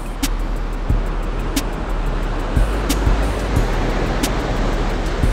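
Surf rolls against the rocky shore of Monterey Bay, California at night, a broad steady wash with occasional thumps and sharp clicks from nearby fishing gear, heard close with wind on the microphone.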